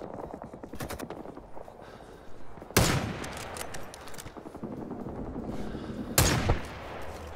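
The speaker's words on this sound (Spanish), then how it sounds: "Se escuchan tiros por la derecha." Rapid bursts of automatic gunfire in Rising Storm 2: Vietnam, with two sharp, loud shots standing out over the steady rattling.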